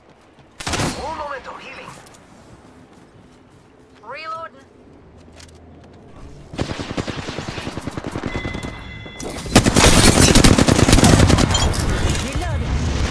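Bursts of automatic gunfire in the battle-royale video game Apex Legends, scattered shots early then dense sustained volleys toward the end, with in-game voice lines spoken over the action.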